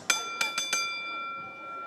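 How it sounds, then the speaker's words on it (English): A boxing ring bell rung at the start of a bout in a fight arena: four bright metallic dings, the first and the rest close together, each leaving a long ringing tone that fades away. "when the bell rings"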